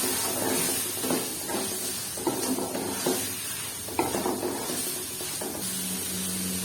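Chicken fries in a pan with carom seeds and dried coriander powder, giving a constant sizzling hiss broken by bursts of stirring and scraping at close range.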